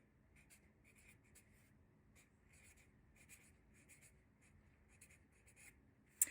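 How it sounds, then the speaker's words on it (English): Marker and pen scratch across paper in short repeated strokes with small pauses, quiet and close, no voices, ending in one sharper tap. "I'm drawing in marker and pen so y'all can see it more clearly."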